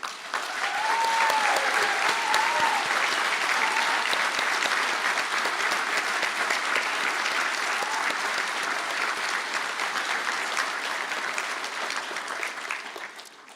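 Sustained audience applause for graduates at a university conferring ceremony in Galway, a dense wash of many hands clapping steadily at full strength for over ten seconds before tapering slightly at the end.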